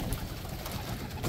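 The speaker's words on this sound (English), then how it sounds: "still working with these young birds. This is them just coming out." Young racing pigeons coo softly and steadily close by as they come out, a low continuous murmur with a faint rustle of movement and no talking.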